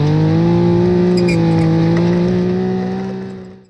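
A dune buggy engine fitted with a Ninja ZX14 motorcycle exhaust holds a loud, steady droning idle-rev close by, then gradually fades out over the last second.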